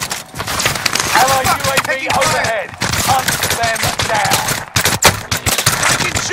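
Call of Duty Warzone gunfire rattles in dense, loud automatic bursts, nearly continuous with short gaps, while a game voice calls out over it.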